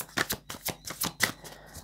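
Tarot cards slid and drawn from a deck, a run of soft, crisp papery flicks and snaps in an uneven rhythm, close and quiet with no voices.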